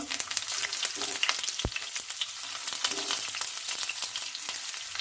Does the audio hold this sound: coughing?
no